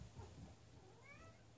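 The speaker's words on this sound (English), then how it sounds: "And my cat is fighting with his brother." Two house cats fighting with each other, heard as quiet yowling and meowing with a short rising wail near the end, faint and close, with no voices.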